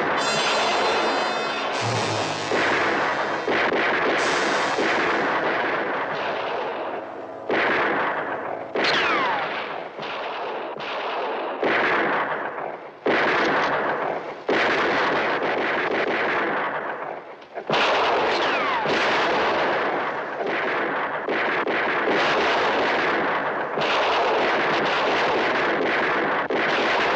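Sustained gunfire in a western TV episode, with repeated loud shots and bursts layered over a dense, continuous roar of battle noise, running without pause throughout and no speech.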